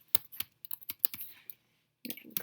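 Rapid keystrokes and clicks on a computer keyboard while filling in a heading in Google Classroom, an irregular burst of close, crisp taps, then a short pause before a few more strikes.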